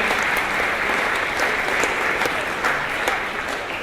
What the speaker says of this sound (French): il mérite qu'on l'applaudisse, mesdames et messieurs